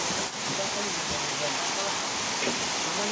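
Steady rain falls beside a river as an even, dense hiss without pause, fairly loud and close, with no voices standing out.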